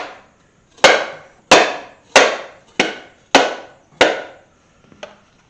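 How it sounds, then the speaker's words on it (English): Six sharp, evenly spaced whacks from a dead blow hammer driving a 1983 Chevy C30 driveshaft yoke into its shortened tube, each loud and close with a short ringing decay, followed by a fainter final tap. "Then I'm going to take a dead blow hammer."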